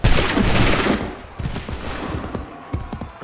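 Musket volley in Assassin's Creed 3, a loud ragged burst of many shots fired together, followed by scattered cracks and rumbling echoes fading out.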